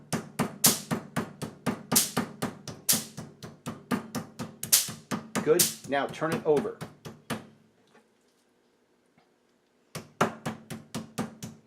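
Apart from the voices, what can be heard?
pounding chicken fillets with a hammer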